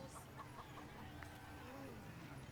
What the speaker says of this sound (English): Chase that chicken!